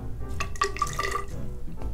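Water poured into a measuring container to 100 ml for a mead bench trial, a close gurgling trickle with small bubbly splashes over a couple of seconds.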